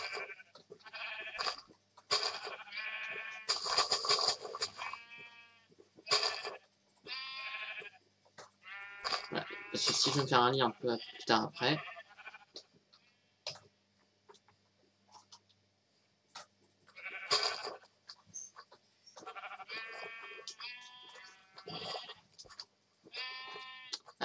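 Sheep in a Minecraft-style video game bleat again and again in short nasal bursts, loud and close, with someone speaking French in between the calls.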